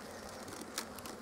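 Honeybees hum inside the brood box of a garden beehive, a faint, steady buzz close by with a few brief louder passes as single bees move near.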